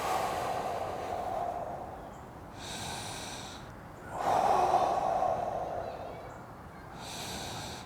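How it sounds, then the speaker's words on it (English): Slow, deep breathing during a beginner qigong forward stretch, two long audible breath cycles with airy inhales and louder, fuller exhales close to the microphone, over quiet room tone. "So I'm just going to breathe into that."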